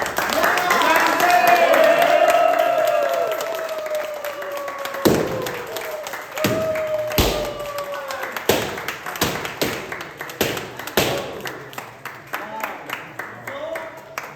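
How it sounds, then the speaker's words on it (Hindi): Scattered, uneven hand claps from an audience at a product launch for alkaline mineral drops. They follow a stretch of talk and continue as separate sharp claps rather than a dense, sustained ovation. "सो तालियों के साथ ही करते हैं।"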